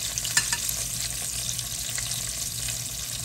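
Steady sizzling of food frying in olive oil, a constant crackling hiss with occasional pops, close and continuous with no talking.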